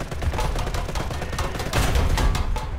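Tank cannon and gunfire in War Thunder, a rapid string of sharp loud blasts and cracks with booming low end, dense and close throughout.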